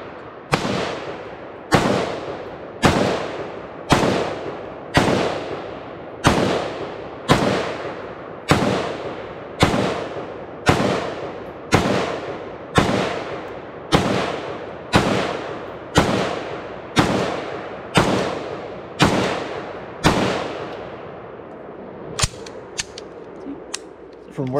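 An LMT Estonian R20 Rahe AR-15 rifle firing a full magazine, loud sharp shots spaced about a second apart in a steady rhythm with ringing echoes between them, roughly twenty rounds, ending in a few faint clicks.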